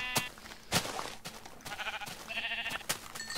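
Sheep bleat in the video game Minecraft, a couple of short nasal calls heard close among clicks, footsteps and other game sound effects.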